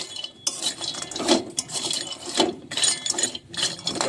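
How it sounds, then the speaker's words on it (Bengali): Repeated scraping and rattling as whole spices for a fish masala are stirred around a dry pan, close and moderately loud in an irregular rhythm. "শুকনো কড়াই এরকমভাবে নাড়তে থাকবে"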